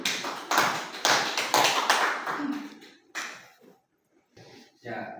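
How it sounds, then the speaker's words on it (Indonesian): A high-school class claps hands after a biology lesson on fungi, a short burst of scattered, fairly close claps that thins out into a few separate taps, with some voices mixed in. "Berikan tepuk tangan."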